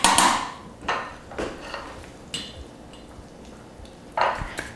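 Cooked meat spooned into a pot of sauce, heard as several distinct clanks and scrapes of a metal spoon against the pot at irregular intervals, close and clear with no talking.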